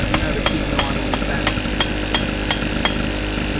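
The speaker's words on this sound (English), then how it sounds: "just lift the hammer up slightly in an angle, just keep going down" A hammer strikes metal in a steady rhythm of about ten evenly spaced ringing taps, close and moderately loud, over a constant background hum.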